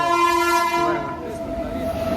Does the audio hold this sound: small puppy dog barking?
no